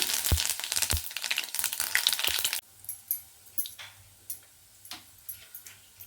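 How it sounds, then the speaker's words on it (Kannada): Mustard seeds and fennel crackling in hot oil, starting as a busy sizzle with sharp pops and then thinning into scattered ticks and spits of hot oil. "ಸ್ವಲ್ಪ ಎಣ್ಣೆನ ಹಾಕ್ಕೊಂಡಿದ್ದೀನಿ ಇದಕ್ಕೆ ನಾನು ಸಾಸಿವೆ ಮತ್ತು ಸೋಂಪನ್ನು ಹಾಕ್ಕೊಳ್ತಾ ಇದ್ದೀನಿ"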